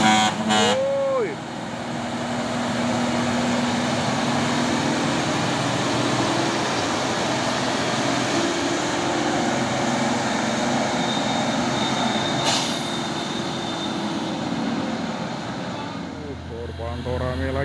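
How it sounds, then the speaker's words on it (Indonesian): Heavy trucks grinding uphill on a slope, including a Mitsubishi Fuso truck and a CPO tanker truck, a sustained loud engine drone with a brief horn-like tone near the start and people talking over it. "Pantau rame lagi truk-truk yang mau menanjak, dan ada juga truk tangki CPO."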